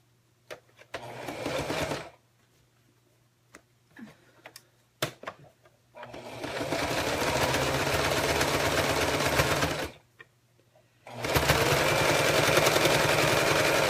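A sewing machine top stitches along a zipper in two long, steady whirring runs, with ticks, clicks and handling noises in the short pauses between them.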